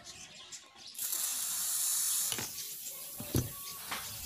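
Pressurized air hissing steadily from a loosened manometer on the air tube of a PCP air rifle, a close, continuous rush lasting a second or so, then tapering into softer hiss with small handling clicks.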